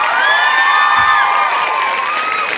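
Loud cheering and whooping from a high school musical audience, with high shouts and sustained screams from young voices riding over a dense bed of crowd noise and clapping.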